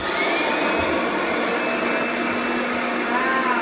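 A Kirby vacuum cleaner runs with its belt removed, giving a loud, steady whooshing roar with a high motor whine that stays even throughout, with no talking.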